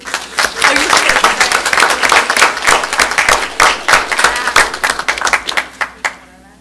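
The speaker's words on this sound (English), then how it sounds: "you have a room full of people cheering you on" A room full of people at a school district ceremony bursts into sustained applause and cheering, dense clapping that stays loud throughout and thins into a few scattered claps near the end.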